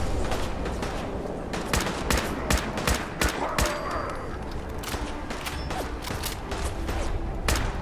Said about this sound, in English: So did I just shoot it in the head or I shoot him in the head through the wall?